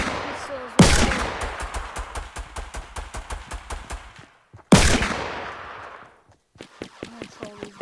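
Rapid, evenly spaced pistol shots in a shooting video game, with two louder blasts that ring out and decay, followed by a few quieter shots and a brief voice near the end.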